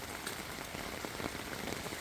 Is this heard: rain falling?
yes